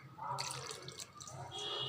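Water is poured a little at a time into flour and potato dough, with soft trickling and wet splashes close by, and faint mixing sounds.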